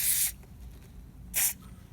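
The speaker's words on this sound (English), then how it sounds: "I advise you just put some silicone spray down there," Two short bursts of silicone aerosol spray, hissing bright and close, the first about a quarter second long and a second shorter one a moment later, with quiet in between.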